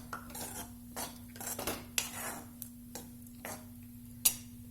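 Grated coconut and crushed peanuts dry-roasting in a pan for Vidarbha-style sambharwadi, stirred with a spoon that scrapes and clinks against the metal in irregular bursts, with a few sharper knocks over a quiet, steady hum.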